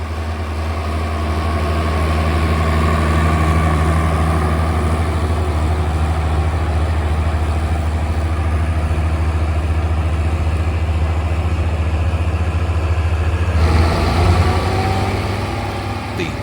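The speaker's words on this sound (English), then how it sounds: "others fitted with Fritzmeier cabs like this example, which is working with a Landsberg plough" Classic Schlüter tractor fitted with a Fritzmeier cab, ploughing with a Landsberg plough: a steady, loud diesel drone with a deep low rumble running throughout, shifting slightly near the end.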